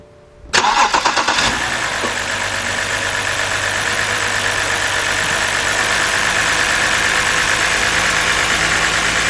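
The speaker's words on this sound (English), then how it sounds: "So let me go start this up" A 2010 BMW 528i with a 3.0-litre engine cranks briefly and catches, then settles into a steady, close idle with a faint uneven shake from a cylinder misfire.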